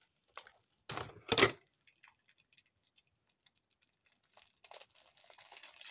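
A couple of sharp, crackly rips of adhesive tape sound up close, followed by faint scattered clicks and a softer rustling tear near the end.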